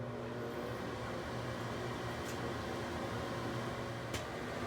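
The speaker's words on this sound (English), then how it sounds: "I'm gonna put the microwave to 4 minutes on high" A microwave oven set to high power hums steadily throughout while making popcorn, a constant even drone with a couple of faint brief clicks and no voices.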